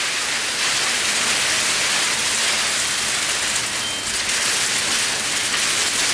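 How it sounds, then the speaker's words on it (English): Heavy rain pours steadily, a dense hiss of drops on hard surfaces that stays loud and unbroken throughout. "That's rain."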